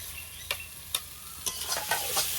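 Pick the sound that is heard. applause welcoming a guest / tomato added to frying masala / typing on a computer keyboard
tomato added to frying masala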